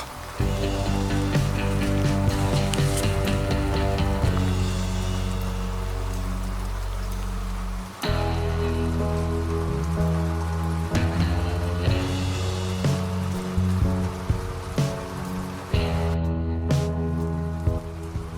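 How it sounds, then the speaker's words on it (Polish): Steady rain drumming on a surface close by, a continuous patter with a few brief pauses and shifts in intensity. "już pada równo"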